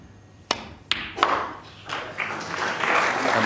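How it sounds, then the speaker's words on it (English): A packed crowd at a snooker final applauds a century break, beginning with a few sharp, separate claps that swell into sustained, dense applause filling the arena. "warmly appreciated by the packed audience. His family applaud as well"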